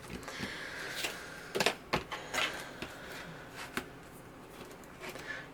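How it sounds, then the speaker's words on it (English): An X-Acto knife cuts through crafting paper for a scrapbook mini album insert, giving quiet, scattered scrapes and sharp little clicks at close range, with no talking. "I'm just going to go ahead and cut it with the X-Acto knife."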